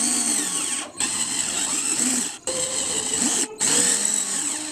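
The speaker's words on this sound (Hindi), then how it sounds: "ड्रिल बिट और ये ड्रिल मशीन।" A small drill machine fitted with a 1.5 mm bit whines at high speed in close, loud runs, broken by three brief pauses as the trigger is released and squeezed again.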